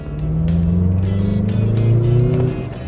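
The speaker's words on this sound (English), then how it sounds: "the engine note of the CX-50 is really nice" A Mazda CX-50 SUV engine growls loud and close, revving with rising and falling tones over a few seconds, heard alone with no talking.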